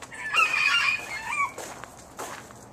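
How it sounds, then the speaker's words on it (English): Chickens foraging outdoors cluck and call near the listener, a burst of crowing-like clucks followed by a few softer scattered calls. "Here's my chickens out here trying to find something to eat."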